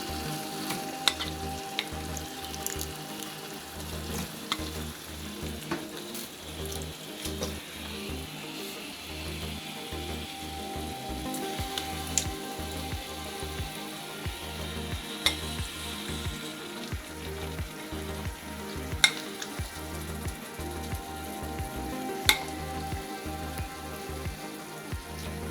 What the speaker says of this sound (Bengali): ছোলেটাকে প্রায় 2-3 মিনিট মশলার মধ্যে দিয়ে আমি কষছি।